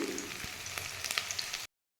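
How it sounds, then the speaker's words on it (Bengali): Chopped garlic sizzling in hot oil in a pan with browned onions, a crackling frying hiss with small pops, fairly quiet and close, stopping abruptly near the end. "রসুন দিয়ে আবার একটু ভেজে নেব।"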